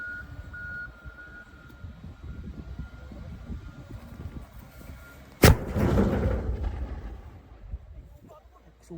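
A large lantaka boga cannon fires once with a single sudden loud blast that rumbles and decays over several seconds, following a stretch of outdoor ambience with a faint tone and low background murmur.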